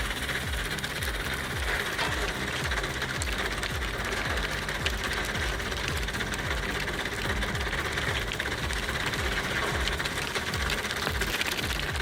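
A screening machine with a 35 by 35 millimetre mesh sorts fine gravel, giving a constant, loud rumbling vibration with a fast rhythmic mechanical chatter that runs unbroken throughout, with no voices.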